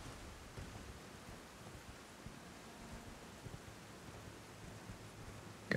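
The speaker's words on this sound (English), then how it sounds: "Got ourselves Erd Tree Rain." Erd Tree rain in Elden Ring falls as a faint, steady hiss of rainfall, ending in a sudden louder burst.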